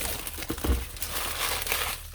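Plastic shrink wrap is torn and crumpled off the box of a 1986 Chevy Monte Carlo SS model car kit, giving a steady close crinkling rustle with a few sharper tearing bursts and no talk.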